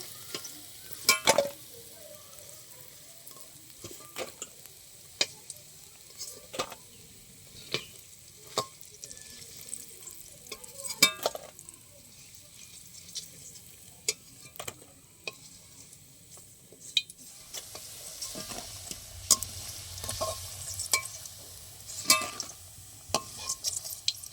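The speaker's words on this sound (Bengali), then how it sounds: "আমার 2 পিঠ ভালো করে ভাজা হয়ে গেছে" Matar dal bora fritters frying in hot oil give a steady low sizzle, broken by sharp clinks and stirring scrapes of a utensil against the pan at irregular intervals, close up and with no talk.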